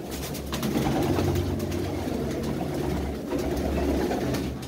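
Domestic pigeons in a loft, low rolling coos repeating steadily and close, blending into a continuous murmur from several birds, no talk.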